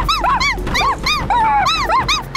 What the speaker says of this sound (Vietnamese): Một chú chó rất là ngoan ngoãn.